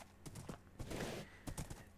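Horse hooves clop in quick, rhythmic bursts as a horse travels at speed in the video game Minecraft, crisp and close, with a brief whinny-like swell in the middle.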